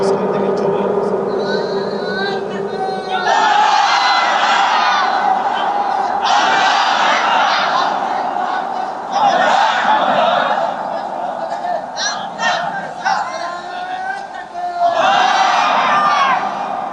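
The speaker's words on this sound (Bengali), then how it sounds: "এবার একজন তাকবীর দিবেন মাঝখান থেকে, যুবক।" A young man gives a takbir call at an outdoor Islamic sermon gathering in Magura, and a large crowd roars back in loud, sustained chanting that swells in several waves.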